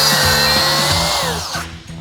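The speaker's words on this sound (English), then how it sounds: "Tony's cutting 2 lengths of joist, a longer cross joist that spans the entire deck" A power tool cuts through a timber deck joist, its steady whining drone running loud and close before winding down near the end of the cut.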